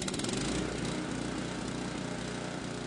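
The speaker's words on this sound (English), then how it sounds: "Start the engine" A small engine starts and runs for a charging system test, a loud, close, buzzing mechanical drone with rapid firing pulses at the start settling into a steady run.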